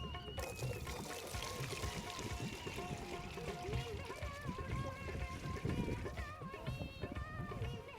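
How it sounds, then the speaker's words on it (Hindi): Water is poured into a container during a televised team game challenge, a steady splashing trickle that carries on throughout, heard close up beneath background voices and room noise. "मैं चाहूँगा यहाँ से टीम मेंबर एक आ जाए, वो यहाँ पर पानी डाले इनका"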